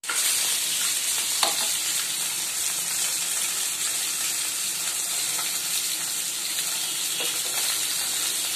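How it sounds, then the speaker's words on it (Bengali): Rohu fish pieces frying in hot oil, a steady loud sizzle with bright crackle running unbroken throughout, a few soft clinks of utensils, no voices. "মাছগুলো ভেজে তুলে রাখবো।"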